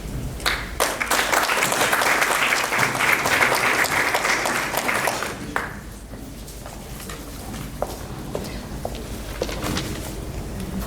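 An audience at a graduate and postdoctoral research symposium applauds to welcome a speaker, a dense burst of clapping for about five seconds that drops off into scattered claps and room noise.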